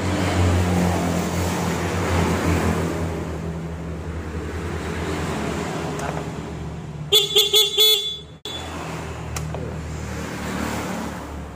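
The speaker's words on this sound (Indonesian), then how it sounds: "langkah pertama kita cek klaksonnya berbunyi dengan baik atau enggak" A Yamaha motorcycle horn blares in a short series of rapid toots, then stops abruptly, over a steady background hum and rumble.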